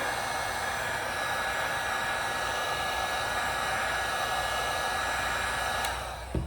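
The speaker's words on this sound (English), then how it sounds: "I just heat the surface until it's liquid" Heat gun blowing hot air onto a candle's wax surface to melt it, a steady loud close whoosh of airflow running continuously, then cutting off near the end.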